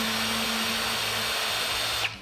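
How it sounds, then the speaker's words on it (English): Power drill whirring steadily as it backs the lug screws out of a stained, clear-coated snare drum shell, a constant close motor whine that cuts off near the end. "Only use the drill for the removal of the lugs,"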